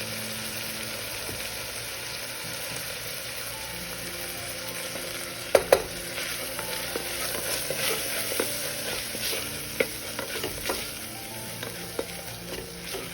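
Kashmiri chilli powder fries in a pan while a beef dish is cooked with onions, giving a soft, steady sizzle with occasional stirring clicks and scrapes throughout.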